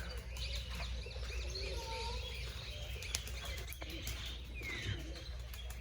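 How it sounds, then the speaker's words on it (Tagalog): Grizzled black pigeons coo and chirp at a resort on Samal island, soft calls set against a steady low hum of outdoor background noise. "sugod na dyan ang atong mga pigeons. Black pigeons. Grizzled black pigeons."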